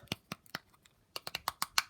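Plastic swivel joint on a velociraptor action figure ratcheting: three sparse clicks, then a quicker run of six sharper, brighter clicks, close and alone.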